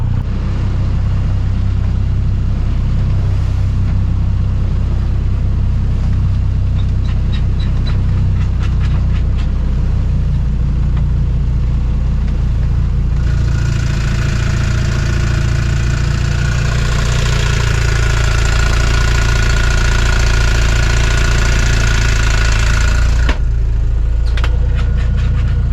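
A sailing boat's engine runs steadily underway at sea, a loud continuous low drone with knocking that carries throughout, brightening and growing busier midway before abruptly cutting out near the end.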